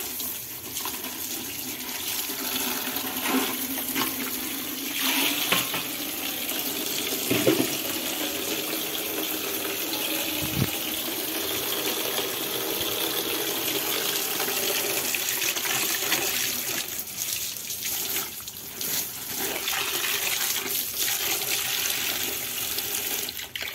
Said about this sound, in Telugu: అలాగే ఇందులో కూడా వాటర్ వేసుకుందాం